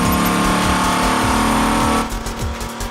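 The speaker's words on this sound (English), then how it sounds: "The team pushes the engine to redline," A Dodge Viper engine on a high-horsepower dyno cell roars loudly near redline in a steady, rising drone with repeated pulsing surges, then the note drops off abruptly as the throttle closes.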